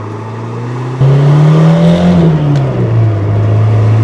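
A 1984 Ford Thunderbird Turbo Coupe accelerates hard from a steady cruise, its engine note jumping loud and rising steadily, then easing into a lower, sustained drone with road roar beneath.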